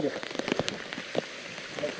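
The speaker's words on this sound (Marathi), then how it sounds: "आमच्यासमोर पण फारच पाऊस आला आहे मुसळधार" Heavy rain patters and splashes on a surface in uneven bursts, close by and fairly steady, on a fort trek in rain and fog, with a faint voice nearby.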